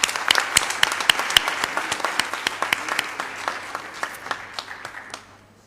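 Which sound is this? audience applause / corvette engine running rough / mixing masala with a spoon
audience applause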